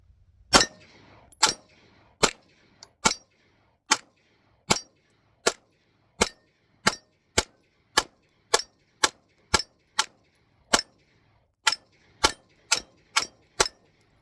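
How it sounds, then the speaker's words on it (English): A Springfield Echelon pistol fitted with XS R3D sights is fired at a target, about twenty sharp distant-sounding shots in a steady, evenly paced string with short gaps between them. "Let's go ahead and put these shots on target and see how close to zero it is."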